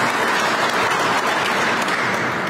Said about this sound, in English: let's give Mrs. Kemp a round of applause